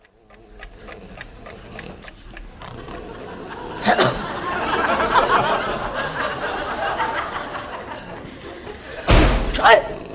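A front door slams in a sitcom, a sharp heavy bang near the end that stands out from chatter and studio laughter earlier in the scene.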